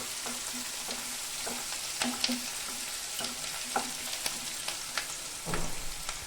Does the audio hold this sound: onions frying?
yes